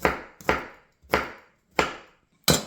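A kitchen knife chops green pepper on a board in home cooking, with five crisp, separate knocks spaced about half a second apart, each close and fairly loud with a short decaying rattle.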